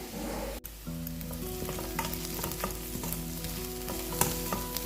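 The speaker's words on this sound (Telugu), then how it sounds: "ఆనియన్స్ ఫ్రై అవుతున్నాయి." Onions frying in a pan for a fish curry, a steady close sizzle with scattered crackles and the clink of stirring throughout, with a steady hum underneath and no talk.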